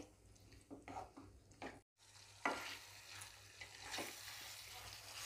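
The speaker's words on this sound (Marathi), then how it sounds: "ह्याच्यात आपल्याला व्यवस्थित हे परतून घ्यायचे देठ मसाल्यामध्ये" Plant stems sizzle and are stirred in a spicy masala in a pan. The frying is moderate and steady with scraping stirs, and a brief dropout comes early in the clip.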